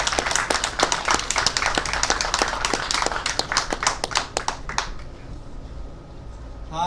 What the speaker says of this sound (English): Everyone give a round of applause for Scott Horton, everyone.